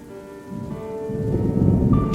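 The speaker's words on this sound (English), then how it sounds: "The storm outside casted flickering shadows across the walls." A thunderstorm outside a window: a soft rumble of thunder and steady rain that swells from quiet to a fuller, louder wash over two seconds.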